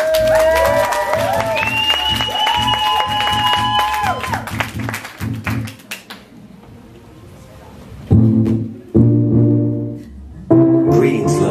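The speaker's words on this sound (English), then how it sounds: "round of applause" Applause from a dance practice party crowd rises alongside loud music, then drops briefly before the music swells back in short bursts.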